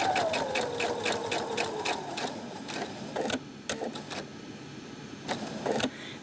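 A sewing machine stitches around the edge of a pillow with faux cording in quick, steady bursts, pausing between short runs as the fabric is turned. Up close and fairly loud, with no talking.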